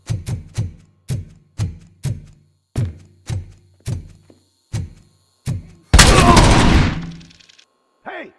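Gunshots ring out in the video game RoboCop: Rogue City, about a dozen loud, evenly spaced single shots followed by a heavy blast that dies away slowly.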